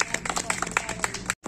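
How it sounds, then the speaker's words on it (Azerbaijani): A small group claps hands at a family birthday surprise at home, a quick, dense patter of close claps lasting about a second and a half with voices mixed in, ending in a sudden short gap before a brief final burst. "El çaldı, alqışladı."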